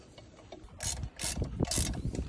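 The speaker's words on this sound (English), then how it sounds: "Tightens it with a ratchet for a certain reason." A ratchet tightens a fastener with three short bursts of rapid metallic clicking, close up, with a low mechanical rumble underneath.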